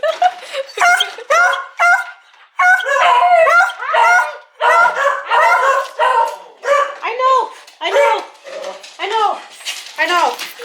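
Several puppies bark and yip in rapid, high-pitched bursts close by, a loud continuous jumble of squeaky barks with brief whines between them.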